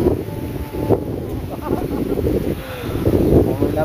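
Strong wind blows outdoors and buffets the microphone in loud, uneven gusts, with a low rumbling roar throughout.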